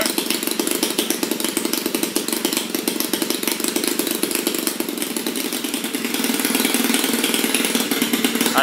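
A 53STS engine runs on a test bench with a fast, buzzy, steady roar that stays loud throughout and thickens slightly near the end as the throttle is opened. No voices.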